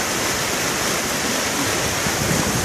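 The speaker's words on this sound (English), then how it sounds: "Here's the water emptying into the great Miami River right here" Water empties into the Great Miami River in Dayton with a steady, loud rushing hiss like a small waterfall, unbroken and close by.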